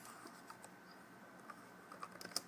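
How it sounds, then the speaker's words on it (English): A computer keyboard is typed on with one hand, giving soft, irregular key taps at a slow, uneven pace and close range, with a quick cluster of clicks near the end and no speech. "again I'm typing with one hand, so I'm sorry, this is a little slow"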